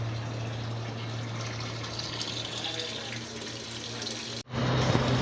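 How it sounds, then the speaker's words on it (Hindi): Steady water streams and patters from the drain valve of a leaking washing machine, a constant close rushing that runs without pause and then briefly cuts out near the end. "यानी इसका ड्रेन वाल ठीक है तो यहाँ से पानी गिर रहा है।"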